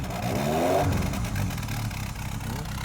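An old engine at a barn-find tractor auction starts and revs, a rough clattering mid-pitched roar that swells early and then settles into a steady, noisy idle, loud and close with no voices heard.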